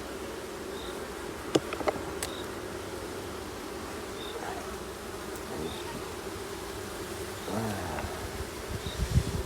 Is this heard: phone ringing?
no